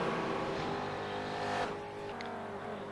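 Dutch touring car racing up through the gears inside a tunnel on an Alpine circuit in Forza 4, its engine droning loud and steady before the pitch drops slightly near the end.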